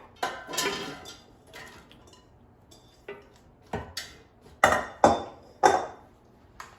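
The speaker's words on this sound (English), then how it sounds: "let's take out the air fryer basket and put the sweet potato chips in the air fryer" Air fryer basket pulled out and sweet potato chips dropped in, giving a run of sharp metallic clinks and knocks, several spaced taps then three louder clattering hits close by.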